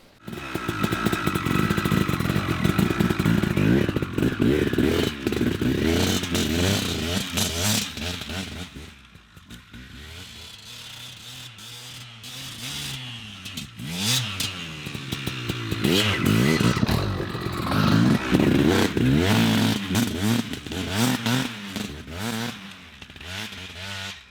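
A KTM 380SX two-stroke dirt bike being ridden, its engine revving hard and shifting pitch again and again, close and loud nearly throughout, with one brief easing near the middle.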